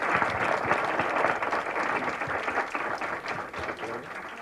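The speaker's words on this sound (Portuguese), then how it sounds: "Un aplauso para el doctor, por favor." Audience applause after a health lecture at CINVESTAV, steady dense clapping from a seated crowd throughout, fairly close and even, tapering slightly toward the end.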